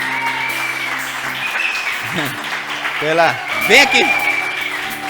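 Church congregation applauding steadily across the whole stretch, with a voice and some singing-like vocal tones rising over the clapping near the end.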